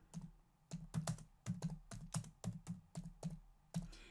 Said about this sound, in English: So now I'm going to type in this fun group.